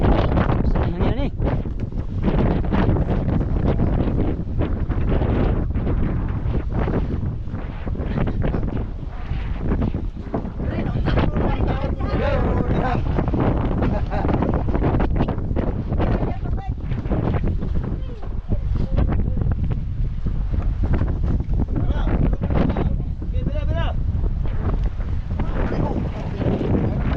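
Strong wind buffets a small boat near Guntao Island, Palawan, a steady loud roar of gusts and microphone rumble filling the whole stretch, with people talking over it now and then.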